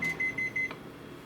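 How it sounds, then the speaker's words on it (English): A kitchen microwave heating butter gives a quick run of four or five bright electronic beeps, evenly spaced and fairly loud, before a faint low hum. "while I'm waiting for Chef Mike to get my butter"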